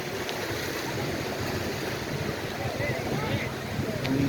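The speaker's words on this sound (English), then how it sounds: "these waves are coming in" Surf rolling in at a crowded Fort Myers Beach, Florida, a steady broadband wash of breaking waves with wind noise on the microphone and faint crowd sounds in the background.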